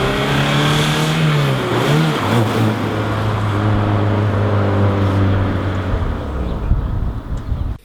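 Honda car engine revving while driving, heard from inside the cabin as a loud, sustained drone whose pitch climbs and dips with acceleration and gear changes, no voices over it.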